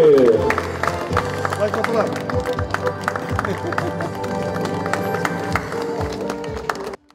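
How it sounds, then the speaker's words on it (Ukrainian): At the opening of winemaker Chyz's museum, an audience applauds in a dense, sustained burst with crowd noise and voices mixed in, over tonal background sound. The applause cuts off abruptly at the end. "оплески!"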